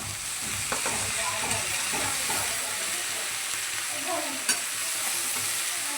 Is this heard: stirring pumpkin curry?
yes